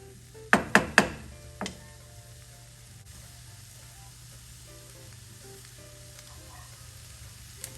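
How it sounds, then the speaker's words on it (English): Beef, garlic, mushrooms and onions fry in a pan for a shepherd's pie. A utensil gives three quick clinks and a softer knock against the pan, then a faint, steady sizzle continues alone. "the beef goes back in, and I now mix up the garlic, the mushrooms and the onions and beef."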